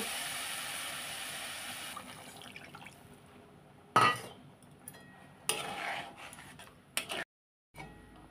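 Warm water is poured into a pot of khichuri with a soft, steady liquid rush, followed by a few brief splashes and light clinks before it falls quiet.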